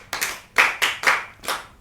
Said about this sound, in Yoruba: ẹ pàtẹ́wọ́ fún wọn o